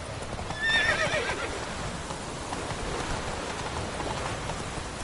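Roach, the horse in The Witcher 3 game, gives one short whinny near the start. Steady galloping hoofbeats then continue under a constant wash of rainfall, with no voices.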